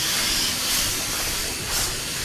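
Steam hisses loudly and steadily from a coal-fired steam engine model, a close broadband rush that swells in two brief surges.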